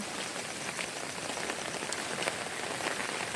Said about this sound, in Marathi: त्यामध्ये पाऊस पडतो, ते छत्री पण पकडावी लागते